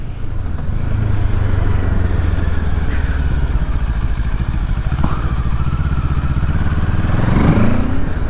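A QJ Motor SRK700 motorcycle engine, the same engine as the Kawasaki Z650, roars steadily and loudly throughout, its pitch rising as it revs near the end.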